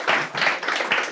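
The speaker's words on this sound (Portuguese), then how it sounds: "Um aplauso para o Francisco também." Short burst of audience clapping at a banking-industry AI talk as a board member is called to the stage, several uneven pulses of hands close together.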